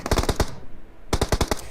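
Video game gunfire in a competitive match, two loud, close bursts of rapid automatic shots, four or five rounds each, separated by a short gap.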